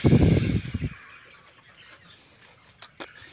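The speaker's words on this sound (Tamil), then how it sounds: "அந்த பக்கம் கருங்கோழி இருக்குது" Black chickens cluck loudly up close on a poultry farm for about a second, then quiet ambient noise with a few faint clicks follows.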